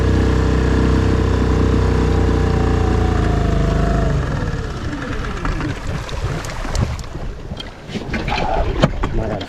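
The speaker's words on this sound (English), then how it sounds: "the motor just wasn't sounding quite right" A fishing boat's motor out in Shark Bay runs rough: a steady, loud droning hum for about four seconds, then it stumbles and drops away into uneven sputtering, with wind buffeting the microphone throughout.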